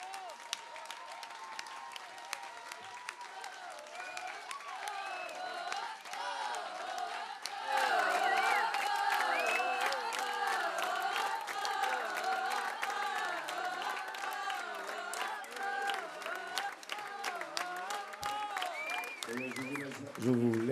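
Concert audience at a solidarity benefit show applauding and cheering, a dense steady roar of clapping that swells louder partway through, with whoops and shouts mixed in and a voice near the end.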